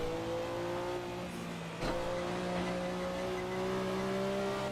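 The engine of a Porsche 962 C race car in Assetto Corsa drones steadily at high revs, its tone climbing gradually after a brief gear-change dip, loud and continuous.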